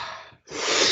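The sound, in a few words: deep breath in during breathwork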